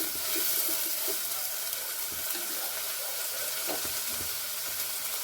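Onions fry in a pan for a quick field bean stir-fry, with a steady, loud sizzle and hiss throughout and a few faint clinks, and no talking.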